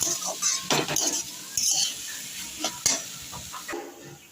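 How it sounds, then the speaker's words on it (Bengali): Yam and cauliflower curry frying with sugar in a pan, a spoon scraping and stirring in repeated strokes over a steady close sizzle, with occasional clinks of metal on the pan. "এখন আমি চিনি দিয়েও এটাকে ভাজতে থাকবো।"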